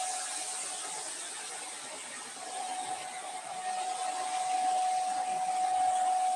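Concrete floor grinding machine running steadily during surface grinding: a continuous loud whirring hiss with a sustained whine, swelling a little louder toward the end, with no voices over it.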